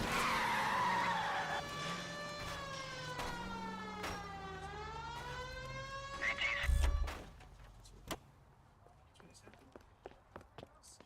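Tires skid and screech in a long wailing sweep during a car chase in the L.A. Noire video game, loud and close, then cut off by a heavy thump and fading clatter.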